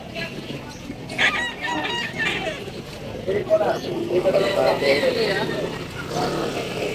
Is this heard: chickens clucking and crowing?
yes